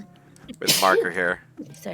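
A single sharp sneeze bursts out among people talking around a tabletop role-playing game session, loud and close, followed by more speech.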